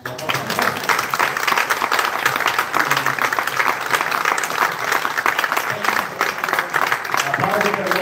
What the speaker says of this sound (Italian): Applauso per voi che hanno partecipato.